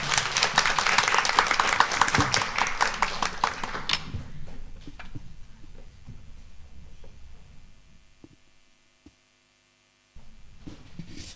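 Congregation applause welcoming a pastor at a Sunday church service, a dense burst of clapping that fades out after about four seconds, leaving a quiet room with faint taps and hum before another brief rise.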